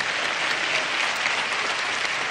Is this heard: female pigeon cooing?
no